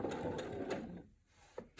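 A sewing machine stitches binding onto a quilt in a brief burst of close, buzzing mechanical noise that stops abruptly, followed by a few quiet clicks.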